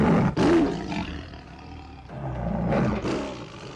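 A lion in the 1983 James Bond film Octopussy lets out deep, loud roars and growls at close range, several surging bursts with brief pauses between them and no voices.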